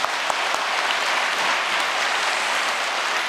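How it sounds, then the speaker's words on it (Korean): Audience at a New Year prayer service breaking into steady, dense applause, loud and sustained throughout with no voices above it. "모두 다 함께 감사의 박수를 올려드리겠습니다"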